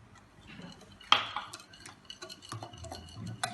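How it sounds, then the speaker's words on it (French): A whisk beats chocolate cake batter with eggs in a bowl, giving quiet, close clinking and rapid scraping taps in an uneven rhythm, with no voices. "Je mets dans le chocolat et je mélange super bien."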